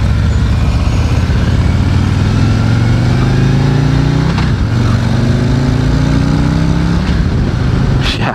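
Loud, steady engine rumble from a 2019 Harley-Davidson CVO Street Glide motorcycle on a test ride, with rising and falling harmonic tones as it revs and shifts through gears, continuous throughout with brief wind buffeting.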